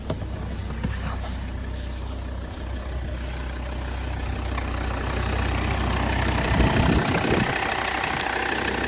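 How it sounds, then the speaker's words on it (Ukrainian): A 2017 Volvo V60 Cross Country 2.4 D4 diesel automatic with 214,000 km idles steadily with a low, even rumble, getting slightly louder toward the end; no voices are heard. "Двигун працює як часики, чистенько, тихенько, зайвих звуків ніяких ніде немає."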